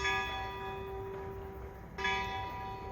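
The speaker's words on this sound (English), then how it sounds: "Do you hear the bells?" Church bells ring at nine o'clock in an Italian harbor village, a bright sustained metallic tone with rich ringing overtones, a second strike sounding clearly after a brief decay, heard faintly at a distance.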